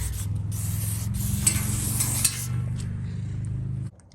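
A steady hissing spray on a seized Massey 12 baler plunger runs for several seconds with brief pauses and a low mechanical hum beneath, then cuts off abruptly.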